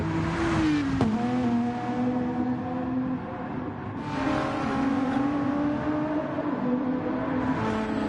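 Racing car engines in the video game Gran Turismo roar and rev continuously at the Nordschleife, pitch rising and dropping as Gr.3 cars accelerate and pass, loud and steady throughout.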